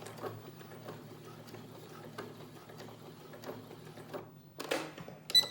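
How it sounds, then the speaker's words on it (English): A sewing machine stitches a locking stitch on a fabric face mask, its needle running in a steady, fairly close mechanical patter, then stopping briefly before a couple of short, louder bursts at the end. "finish with a locking stitch"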